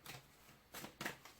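A deck of tarot cards that has grown a bit stiff is shuffled in several quiet, brief riffling bursts close by, with no talking.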